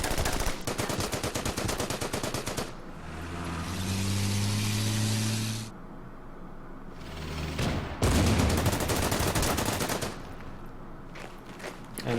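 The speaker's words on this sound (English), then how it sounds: "Armored car advancing." An armored car advancing through gunfire in the Order of Battle wargame, set on the Burma Road. Rapid machine-gun bursts rattle over a revving vehicle engine that swells and drops between volleys.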